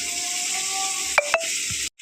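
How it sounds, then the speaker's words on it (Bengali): Shrimp coated in salt and turmeric fry in a pan, giving a loud continuous sizzle with two quick utensil clinks near the end before it cuts off. "চিংড়ি মাছটা আমি নুন হলুদ মাখিয়ে ভাজা করতে বসিয়ে দিয়েছি"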